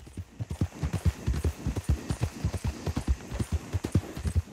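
Horse hooves in Red Dead Redemption 2 clip-clop in a brisk, regular trotting rhythm, clear and close, with no talking.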